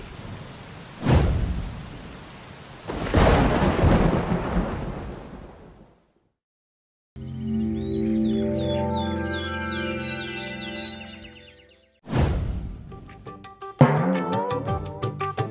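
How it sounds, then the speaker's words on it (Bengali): Thunderstorm with heavy rain at night in an animated story, broadband rain roar with thunder surges in the first six seconds, then a pause before music takes over. "কাল রাতে যা ঝড় বৃষ্টি হলো"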